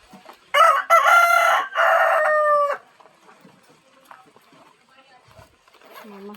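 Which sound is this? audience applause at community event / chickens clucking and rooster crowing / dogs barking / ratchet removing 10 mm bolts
chickens clucking and rooster crowing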